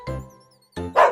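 A dog barks twice in a children's story about an old dog, two short, clear bow-wow sounds, the second brighter and louder.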